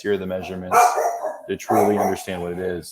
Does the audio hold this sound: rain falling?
no